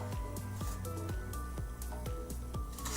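Grated zucchini, about three cups, is folded into quick-bread batter for zucchini bread, giving wet squishing and thick sloshing pulses in a steady rhythm, close and fairly loud, with no talk.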